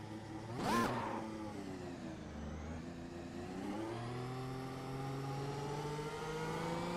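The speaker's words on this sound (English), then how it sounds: "Sadly, these modern F1 cars aren't very exciting to listen to." A modern Formula 1 car engine in a racing game whines steadily with tones that slowly rise as it accelerates, starting with a brief sharp burst of noise, then holding a smooth, continuous moderate drone.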